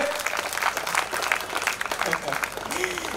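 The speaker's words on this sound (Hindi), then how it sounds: "सभी जन ताली बजाइए जोर से" Audience clapping loudly at an Azadi Ka Amrit Mahotsav cyber crime awareness event in Nagpur, a dense patter of hands running the whole time under a voice talking over it.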